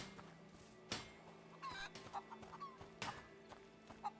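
A chicken clucks intermittently over a steady low hum, with a few sharp knocks and clip-clop taps scattered through, in the video game A Plague Tale: Innocence.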